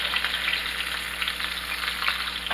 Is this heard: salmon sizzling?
yes